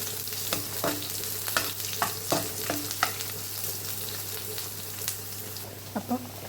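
Spices for tempering sizzle and crackle in hot oil in a pan, with a constant frying hiss and scattered stirring taps, cooked for a horse gram and tamarind curry.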